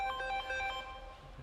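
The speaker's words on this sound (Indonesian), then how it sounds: "Ada telepon Mas." Phone ringtone chirps in a car showroom, a short melodic run of bright electronic tones over about a second, fairly faint, then fading into low background rumble.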